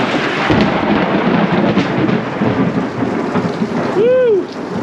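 Heavy rain pours down steadily in a thunderstorm, with a dense, loud hiss of drops and a rumble of thunder mixed in throughout the few seconds.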